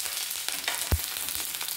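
Onion sizzles in a pan of oil after vermicelli has been fried, a quiet steady hiss with a single sharp knock of a utensil midway and no talking.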